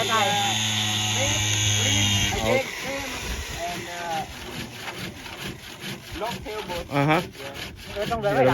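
Rhythmic back-and-forth strokes of a dull hand saw biting through wood while working on a boat, steady and close, with a steady hum in the background.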